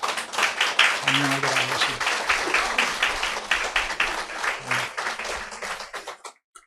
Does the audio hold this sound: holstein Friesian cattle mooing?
no